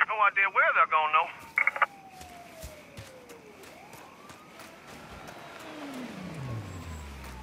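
Car driving in Mafia III, passing engine and road noise with sweeping tones, following a short burst of speech at the start; the vehicle sound is moderate and steady.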